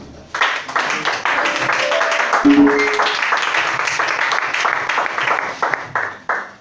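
A church congregation clapping and cheering in acclaim of Jesus during a worship service, a sustained loud applause with voices and a brief tone mixed in.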